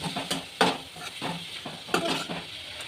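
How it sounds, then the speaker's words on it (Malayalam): Chopped tomatoes and green chilies are stirred in a pan, a soft sizzle under a series of rhythmic scraping strokes from a spoon, close and fairly quiet. "ഇതിലേക്ക് ഞാൻ അരിഞ്ഞു വെച്ചിരിക്കുന്ന തക്കാളിയും പച്ചമുളകും ഇട്ട് കൊടുക്കും. എന്നിട്ട് ഇതും കൂടെ നമുക്ക് മിക്സ് ചെയ്യുന്നുണ്ട്."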